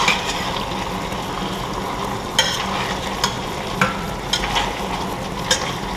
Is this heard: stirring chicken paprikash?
yes